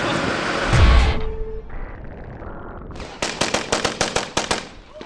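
Illegal fireworks go off: a loud blast, a short lull, then a rapid string of sharp crackling bangs, close and loud with no talk.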